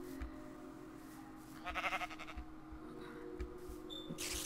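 Sheep bleat in Minecraft, a short wavering bleat in the middle of the clip over quiet game ambience and a few footstep thumps.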